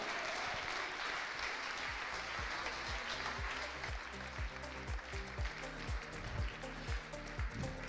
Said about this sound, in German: Und jetzt holst du dir einen ganz kräftigen Applaus ab für deinen finalen Vortrag des heutigen Abends.